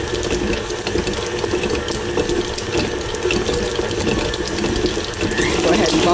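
A KitchenAid stand mixer creams muffin batter with a constant close mechanical whir and rhythmic ratcheting clatter, with a light watery undertone, running steadily throughout.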